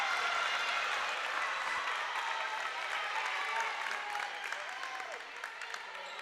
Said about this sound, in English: Some nervous applause coming from the fans behind us